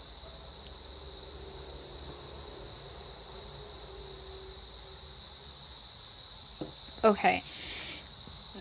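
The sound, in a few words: crickets chirping in the background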